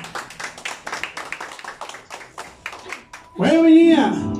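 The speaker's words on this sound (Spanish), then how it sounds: "Y el aplauso, sí, señor." At a birthday celebration with a youth mariachi band, rhythmic claps and a speaking voice lead into a loud, sustained burst of music or cheering at the end.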